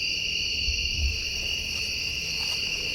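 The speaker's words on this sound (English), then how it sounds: "I think crickets or whatever." Crickets chirp in a steady, high-pitched continuous trill in a dense forest at night, even and unbroken, with a few low thumps.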